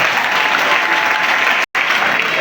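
A church congregation at a French-language Sunday worship service breaks into steady, dense applause, a full crowd clapping continuously with a brief cut in the middle.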